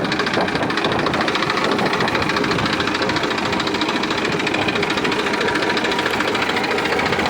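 A 2013-14 Massey Ferguson 241 DI tractor, one owner, in original condition, runs steadily close up, its diesel engine a loud, even, rapid knocking chug with no pauses.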